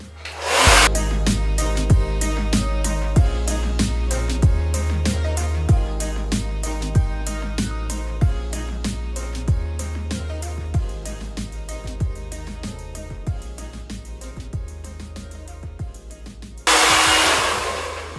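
A handheld hair dryer fitted with a concentrator nozzle blows steadily for about sixteen seconds while drying hair, its loud whirring roar holding nearly constant, then it jumps louder and brighter near the end as the setting changes.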